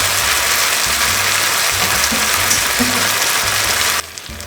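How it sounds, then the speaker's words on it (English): Tofu stir fry sauce simmers in a pan on low heat with a steady, dense bubbling hiss. The sound stays even throughout and drops off sharply near the end. "I put it on low heat to simmer"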